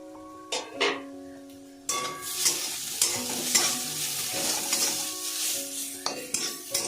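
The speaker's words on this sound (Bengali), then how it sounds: "পেঁপেটাকে আমি একটু ঢাকা দিয়ে ভাজা করে নেব।" Raw papaya frying in a covered pan sizzles steadily, with a lid lifted and utensils stirring and clattering against the pan; metallic clinks and scraping sit over the hiss at close range, no voices.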